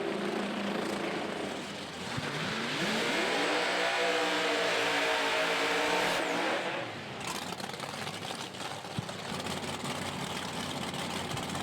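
A diesel Chevy II roars at a loud car competition, its engine revving hard and steady for several seconds before dropping briefly, then surging back under crowd and event noise.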